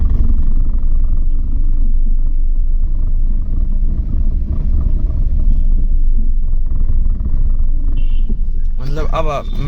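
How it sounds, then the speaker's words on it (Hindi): Engine of an aging Maruti Alto car idling steadily with a low continuous rumble close by, a brief higher sound and a voice entering near the end. "जब चलाएंगे गाड़ी तो धीमे रहेगी आवाज़, और फिर अपने आप तेज होने लगती है"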